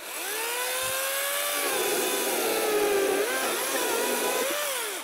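A battery-powered brushless 40V chainsaw with a 16-inch bar cuts through hard, dense canjarana wood, its high motor whine holding steady and loud for the whole stretch, pitch sagging under load and rising again near the end.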